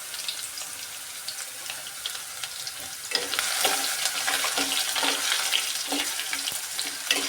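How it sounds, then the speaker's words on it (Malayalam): Ginger frying in hot oil after mustard seeds have popped, for lemon pickle, makes a bright, dense sizzle with scraping stirs, growing louder partway through and staying close without speech. "കടുക് പൊട്ടിയതിന് ശേഷം അതിലേക്ക് ഏതാണ്ട് ഒരു 1/2 കപ്പ് ഇഞ്ചി ഇടുകയാണ്."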